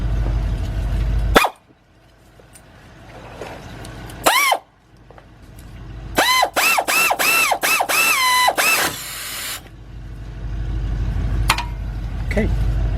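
Close, loud ratchet on a Nissan Altima brake caliper bolt: an opening clack and a brief burst, then a run of six or seven quick clicking strokes with squeaky tones, over a steady low garage hum.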